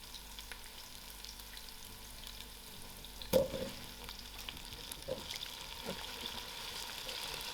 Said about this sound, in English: allow this to fry because carrots are slightly harder than the other vegetables